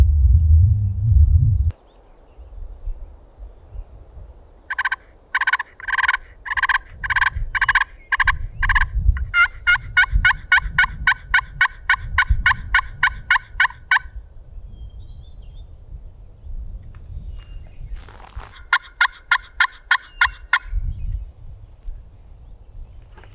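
A Merriam's wild turkey gobbles repeatedly on public land in Utah in spring, with several loud rattling gobble bursts spaced across the clip over low wind rumble.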